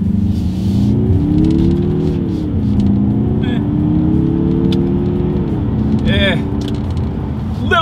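A turbocharged AWD 2021 Mazda 3 engine drones steadily, rising in pitch, then dropping briefly and climbing again as paddle-shifted gears change with a slight delay, with a faint voice in the background.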